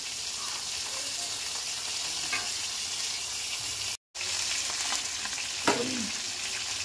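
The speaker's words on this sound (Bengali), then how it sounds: "এখানে আমার বাকি মাছটাও ভাজা হয়ে গেছে।" Bhetki fish pieces frying in oil, a steady bright sizzle with a brief dropout midway and a few utensil knocks as pieces are handled.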